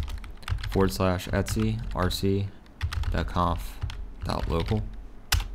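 Keys clatter on a computer keyboard while entering terminal commands to configure a pfSense firewall on a WatchGuard Firebox, the clicks running under continuous talking.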